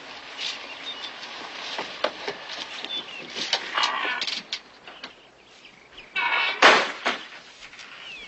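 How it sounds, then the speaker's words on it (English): A screen door at a home opens and closes in a quiet indoor space, giving scattered knocks and rattles before a louder bang of the frame shutting near the end, with no talking. "I gotta fix that screen door one of these days."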